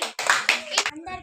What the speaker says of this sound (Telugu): Very good claps.